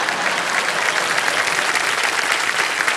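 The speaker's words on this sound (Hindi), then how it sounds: "कौन बजाया ताली?" A TV game show studio audience applauds steadily on Kaun Banega Crorepati, dense clapping from a large audience that stays loud and even throughout with no voices standing out.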